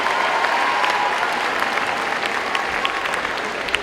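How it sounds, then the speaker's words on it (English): A school gym crowd at a pep rally applauds the golf team, steady dense clapping with a faint crowd murmur throughout. "Let's give them another big round of applause."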